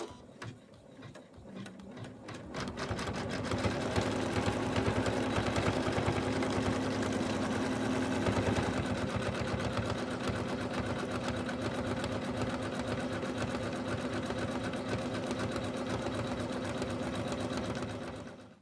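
A home embroidery machine stitches a satin line on an in-the-hoop snowman stocking, running steadily for most of the stretch with a fast, even mechanical rattle at close range and no talking.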